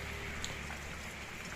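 Rain falls steadily at night outside a backyard bird aviary, a faint, even hiss of drops with no voices.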